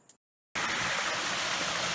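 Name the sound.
water flowing off a hill into a reservoir after rain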